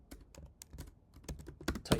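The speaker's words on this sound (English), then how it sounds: "typing is fun" Quick, light keystrokes on a computer keyboard during a Linux command-line session, irregular clicks close by, a little louder toward the end, with no voices.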